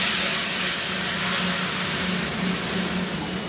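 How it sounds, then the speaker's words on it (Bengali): Eggs fry in hot mustard oil with a little turmeric for a Bihari egg curry, giving a loud, unbroken sizzle and hiss close by, without any talking. "এই ডিমগুলাকে ভেজে নিতে হবে আমার।"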